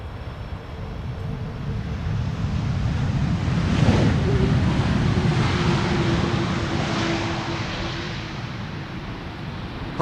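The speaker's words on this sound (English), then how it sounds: "Arriving from Mumbai, KLM flight 878, Airbus A330 300." A KLM Airbus A330-300 arriving at Schiphol in crosswind conditions passes as a distant, broad rumble that swells to a peak midway and then fades, with wind noise throughout.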